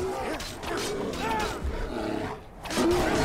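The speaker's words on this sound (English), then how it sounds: "Oh, a snow bear." A snow bear roars in Skyrim, a loud growling roar mixed with game sounds and a person talking over it throughout.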